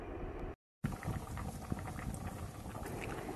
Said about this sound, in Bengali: ডালটাকে সেদ্ধ করার জন্য।